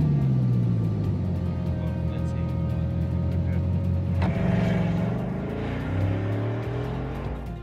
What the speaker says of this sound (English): Should I start the engine?